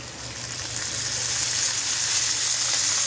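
Pork steaks frying in oil give off a steady, loud broadband sizzle that swells slightly and then holds evenly, close by, with no talking.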